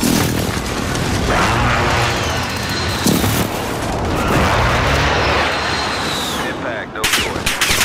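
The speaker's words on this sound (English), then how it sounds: "Strike inbound." Airstrike explosions in Call of Duty Warzone on Rebirth Island thud and rumble through dense, continuous battle noise with gunfire crackling throughout, loud and close, with a sharp blast near the middle and another burst late on.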